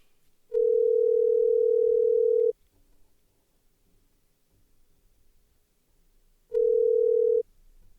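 A phone line gives out a steady ringback tone in two long even pulses, loud and clear, with near silence in the gap between them.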